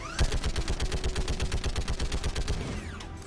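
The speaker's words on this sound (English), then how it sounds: "Stop shooting my ship, please." Rapid automatic gunfire strikes the player's ship in the video game Mass Effect 3, a dense, loud burst of evenly spaced shots lasting about three seconds before cutting off.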